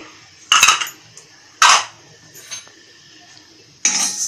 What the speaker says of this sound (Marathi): ही मेथी जरा अशी हलवून भाजून घ्यायची.